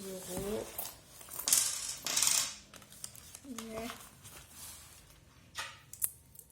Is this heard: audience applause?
no